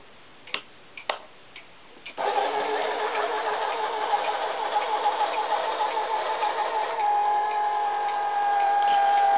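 Small robot's wheel motors driving over a rug, beginning with a few light taps and then settling into a continuous, fairly loud mechanical whir with faint ticking that holds steady to the end.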